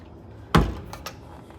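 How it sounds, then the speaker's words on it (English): A bathroom door in a room at Disney's Coronado Springs Resort is opened, producing one sharp, close thunk followed by a couple of faint knocks. No one speaks. "let's open the bathroom door, please"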